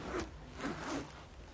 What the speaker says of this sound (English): The zipper is working.